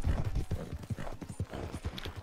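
Horse hooves clip-clop in a steady, rapid rhythm in the online mode of the video game Red Dead Redemption 2, loud and close throughout with no talk over them.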